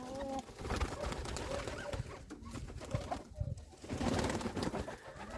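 A black-headed high-flying pigeon coos repeatedly at close range, its soft calls layered over constant rustling and ambient noise.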